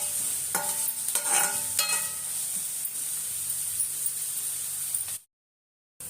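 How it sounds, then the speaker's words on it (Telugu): Steady hiss of frying in a pan, with a few scraping stir strokes early on, continuing alone without voices before cutting to silence near the end. "వేగనివ్వాలి"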